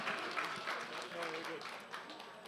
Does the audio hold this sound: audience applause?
yes